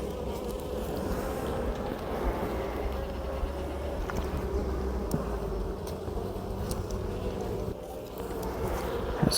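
A swarm of calm honeybees drones steadily around hive boxes during a queen check, a soft, continuous buzzing hum with faint clicks and handling noises close by, no talking.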